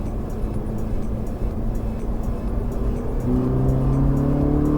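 A Ferrari 458 Italia accelerates on a race circuit, its engine droning steadily and then rising into a louder, climbing rev heard from inside the car.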